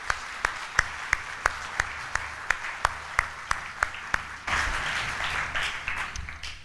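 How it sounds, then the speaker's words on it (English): After evening worship at a large church gathering, single claps fall in a steady rhythm, then a broader wave of crowd applause swells in, moderately loud and continuous. "I think we should give these guys a round of applause."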